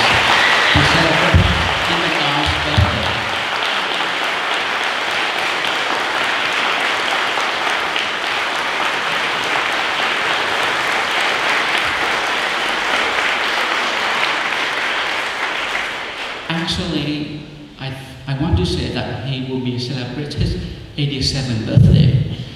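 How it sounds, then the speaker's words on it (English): A church congregation at Sunday Mass applauds an 86th birthday with loud, sustained clapping that lasts about sixteen seconds and then gives way to a speaking voice. "So let us give a big applause to celebrate."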